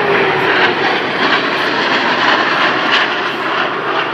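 A C-17 Globemaster III military transport jet roars past at an air show at Lackland Air Force Base, its loud sustained engine noise droning steadily throughout with no voices over it.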